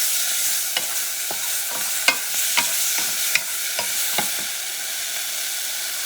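Garlic frying in a pan and being moved around, a continuous hiss of sizzling oil with a few sharp scrapes and clicks from the utensil, close and steady.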